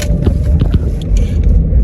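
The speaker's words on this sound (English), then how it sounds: "traffic is building up right now" Road traffic in Jamaica builds up in the afternoon, heard as a loud, close, continuous rumble of passing cars with some rattling and scraping noises over it.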